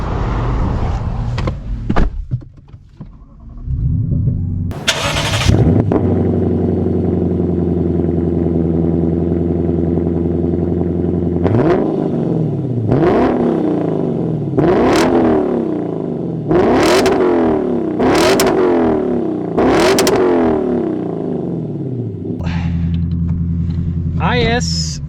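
A Lexus IS 500 driving and accelerating, its engine rumbling steadily then rising in several sharp revving pulls with quick gear changes, loud and close, with a person talking at the start.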